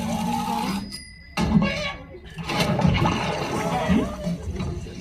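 Chicken cooked in lava gives off a dense, steady hiss and crackle that drops out for a moment before surging back even louder and continuing, with voices faintly mixed in.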